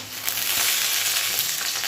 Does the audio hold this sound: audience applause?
no